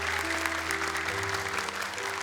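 A studio audience at an Indonesian Quran-memorization talent show claps loudly and continuously, with sustained music tones running underneath the applause.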